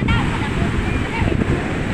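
Big sea waves crash and surge in a continuous loud roar of churning water, close by, with wind buffeting the microphone throughout.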